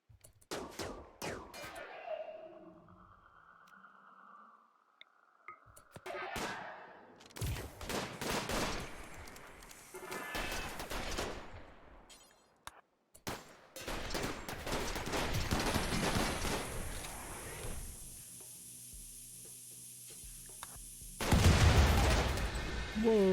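Gunfire in the heavily modded colony game Rimworld, bursts of rapid shots and mechanical clatter coming in clusters between quieter stretches, with a louder sustained barrage near the end.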